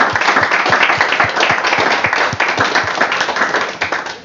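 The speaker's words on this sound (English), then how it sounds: "Give them a warm applause." Warm applause for presenters after a discussion on service design, close and loud clapping with a few distinct hand claps keeping a quick rhythm over the dense crowd sound, fading a little near the end.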